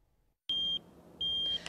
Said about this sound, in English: This here is a beeping egg,